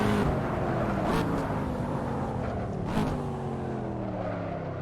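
A Corvette C7 in the Assetto Corsa racing game brakes hard into a chicane at Monza. The loud engine roar falls in pitch as it slows, with a couple of quick downshift blips and no voices.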